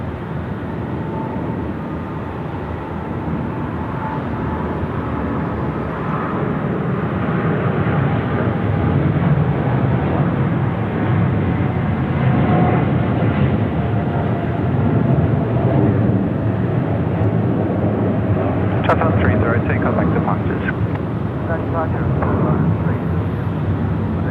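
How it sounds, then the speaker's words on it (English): A China Southern Boeing 787 departs Sydney Airport at night, a continuous heavy jet rumble building slightly in loudness over the span, with voices talking on top. "China Southern 787, graceful departure coming up."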